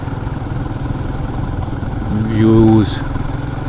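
A Royal Enfield Guerrilla 450 motorcycle engine runs steadily while being ridden on roads around Chikmagalur, a continuous low rumble with a brief rise in revs near the end. Speech is heard over the engine.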